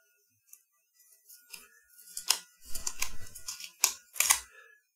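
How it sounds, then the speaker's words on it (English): A sticker peeled off the front of a weather radio, a series of faint then louder close tearing and crinkling bursts, crisp and irregular, with near silence between. "we got the weather radio sticker here on the front. Does this peel off?"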